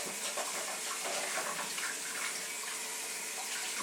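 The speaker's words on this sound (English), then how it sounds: "Just gonna wash my hands real quick here." Water runs steadily from a kitchen tap while hands are washed during turkey preparation, a continuous close splashing hiss with no talking.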